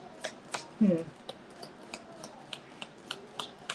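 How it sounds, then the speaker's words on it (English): A deck of tarot cards being shuffled by hand, with soft repeated riffles and light snapping taps in an irregular rhythm, quiet and close. "I'm gonna do another shuffle."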